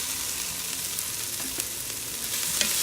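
Sausage sizzles steadily in a Ninja Foodi pot, a close, even frying hiss with a few soft clicks of movement and no talking.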